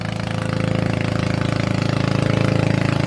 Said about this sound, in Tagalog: marami pong dumadaan ng mga bangka dito